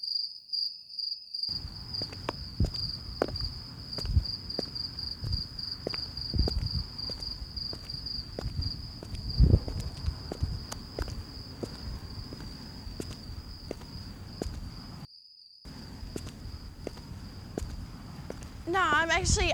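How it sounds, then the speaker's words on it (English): Steady footsteps crunch along a path through a cemetery at night, surrounded by a constant high chirping of crickets, with a voice speaking over the walking for much of the time. "I'm actually just walking through the cemetery right now."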